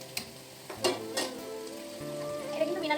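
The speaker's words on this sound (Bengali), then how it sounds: "ওদিকে আলু আর গাজর ভাজা হচ্ছে" Potatoes and carrots fry in a pan with a soft, steady sizzle and a few faint crackles and pops, quiet and close in a home kitchen.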